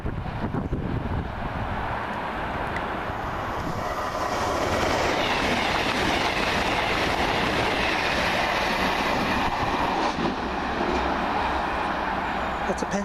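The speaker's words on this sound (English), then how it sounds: "That's a Penzance train." A passenger train bound for Penzance passes on a Great Western main line, a loud, steady rumble and rail roar filling the whole span with wheel clatter and wind buffeting the microphone, and no voices over it.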